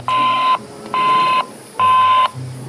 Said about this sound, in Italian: ora suono e vediamo se mi fanno entrare